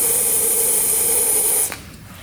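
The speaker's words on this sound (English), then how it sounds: "Get the center cylinder sprayed." Aerosol spray hissing into the center cylinder of a long-stored 2-stroke triple motorcycle engine, a steady close hiss that cuts off abruptly near the end, leaving quiet room tone.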